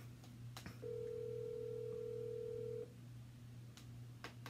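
An unanswered phone call's ringback tone plays as one long, steady electronic beep lasting about two seconds, then stops, set against a low constant hum and a few faint clicks.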